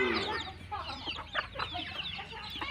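Chickens on a small local farm keeping goats and chickens cluck steadily in short overlapping calls, close and fairly loud, with no talking.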